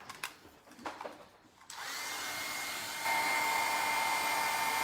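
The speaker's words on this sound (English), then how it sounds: "I'm going to go ahead and hit this with my heat gun and dry it a little bit" A heat gun switches on after a few quiet handling noises and then blows a loud, steady whirring roar that holds and rises slightly, drying craft media at close range with no talk.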